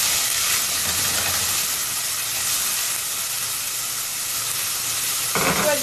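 Bell pepper sautéing in a pan while making a mock crab pie, a steady loud hiss and sizzle running throughout, with a brief clatter near the end.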